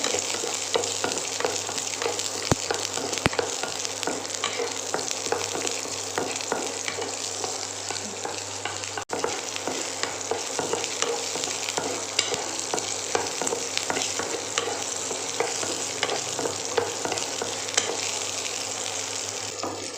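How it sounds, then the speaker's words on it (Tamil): Garlic sizzles steadily in hot oil in a pan for a potato and brinjal kuzhambu, with frequent scraping stirs over a constant close, loud frying hiss. "பூண்டு ஆட் பண்ணுறேன்"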